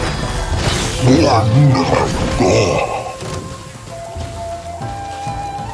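Rain and rumbling thunder in the Genshin Impact video game, a steady downpour with a low thunder roll, loud and under battle voices.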